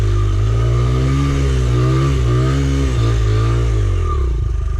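A Honda CRF100F dirt bike engine revs loudly and close up. The pitch rises and falls in waves as the throttle is worked, and the sound runs continuously without voices.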